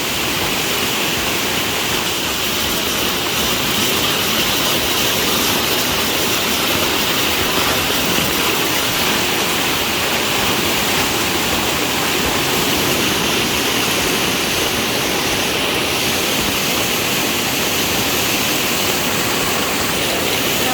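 Powerful floodwater rushing and roaring past bridges, a loud, dense, unbroken torrent filling the scene for the whole stretch with no voices.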